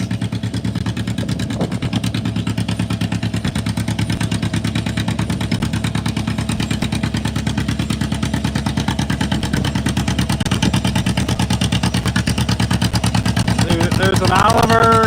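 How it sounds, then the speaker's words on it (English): A pulling tractor's engine runs at a tractor pull in Blissfield, Michigan, with a loud, steady rapid chug throughout and a voice talking over it. "there's been about 2 tractors running it down to about full pull distance."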